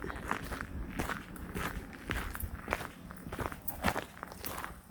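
Footsteps walk steadily downhill along a path toward a stream beside a road, each crunching step close and distinct, with no talking.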